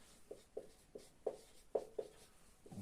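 Chalk or marker strokes on a board, about seven short, distinct scratches in an uneven rhythm, close and fairly quiet, with no talking.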